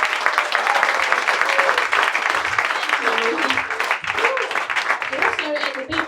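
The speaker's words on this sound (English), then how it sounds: "let's have a round of applause for Sarah" Steady audience applause at a comedy show fills the whole stretch, dense clapping with some voices mixed in, fairly loud.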